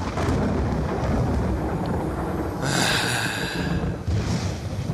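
Steady rumbling storm noise with rain-like hiss throughout, swelling into a brighter rush of thunder midway, from Black Ops 2's Tranzit mode, no voices.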